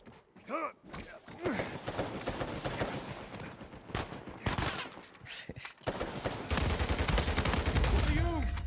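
Rapid bursts of gunfire and explosions in a Star Wars video game battle, loud and intermittent, with shouted voices between the shots and denser firing toward the end.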